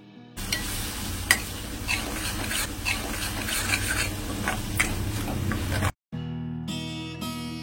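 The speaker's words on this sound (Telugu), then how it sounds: "మసాలా పేస్ట్ని వేసుకొని ఆయిల్ పైకి తేలేంత వరకు వేయించుకోవాలి" Ground masala paste frying in oil until the oil rises to the top, in a village kitchen, a loud close sizzle broken by clicks and scrapes of stirring, cutting out briefly near the end before another hiss with a faint tonal hum.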